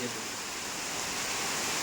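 Rain falling as a steady, dense hiss of broadband patter that stays even and close throughout, with no clear voice.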